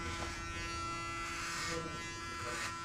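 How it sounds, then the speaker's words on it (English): Electric hair clippers buzz steadily and close up while shaving a head for a buzzcut, a constant hum with brief brighter swells as the blades pass through hair. "Nice feeling when you shave someone hair."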